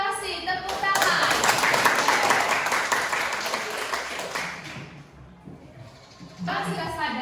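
Classroom of students applauding, a dense burst of clapping hands for several seconds that tapers off, with voices speaking before and after it.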